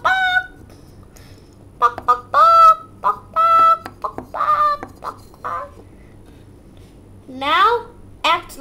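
A voice imitates a chicken with a run of short, squawking clucks and rising cackles, loud and close, broken by brief pauses and ending in a couple of stretched, wavering calls.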